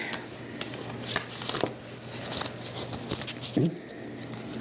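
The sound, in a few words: tarot cards being shuffled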